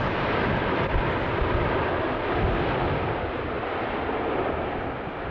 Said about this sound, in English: There's this Dreamliner coming in from JFK, touches down.